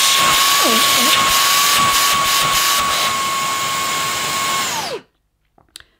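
A Numatic Quick NQ100 cordless vacuum cleaner runs on its high setting with a loud, steady motor whine and hiss, then cuts off abruptly. A couple of faint knocks follow in the quiet.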